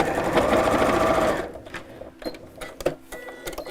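A sewing machine stitches fabric with a fast, steady whirring run, then stops and is followed by a few scattered clicks and handling knocks.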